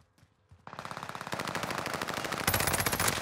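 Rapid automatic gunfire from an SMG in a first-person shooter video game, a fast, continuous burst of close, punchy shots that grows louder partway through.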